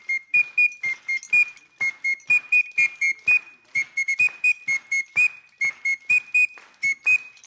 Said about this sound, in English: This one is a piece of wood from Africa, a place called Tanzania. It's a special kind of whistle.